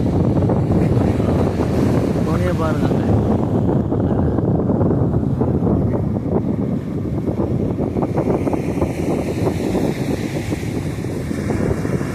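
Calm sea waves wash in steadily at Kattankudy beach, a continuous broadband surf wash heavily buffeted by wind noise on the microphone, with no speech heard.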